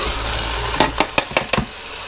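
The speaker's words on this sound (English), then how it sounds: "Sizzle up, sizzle." Steady frying hiss of beef browning in a Cuisinart pressure cooker, with a few sharp pops and crackles near the middle, close and fairly loud, no talking.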